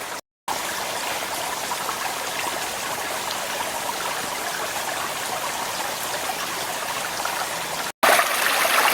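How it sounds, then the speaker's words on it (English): A small mountain creek with only a little water runs steadily over rocks, a close, continuous broadband rush and trickle with no voices, briefly cut at the start and near the end. "this creek, it's not very big and there's not a whole lot of water, you know, going down through it"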